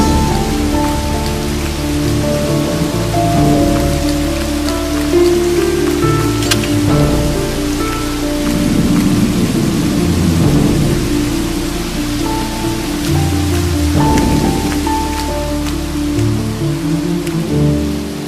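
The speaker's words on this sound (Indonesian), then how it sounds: "Hujan tambah deras." Heavy rain falls steadily on a surface for the whole stretch, a dense continuous wash with a few brief rumbles that may be distant thunder, and no talk over it.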